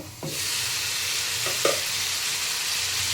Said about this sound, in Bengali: সবজিটা আমি ভালো করে ভেজে নিয়েছি।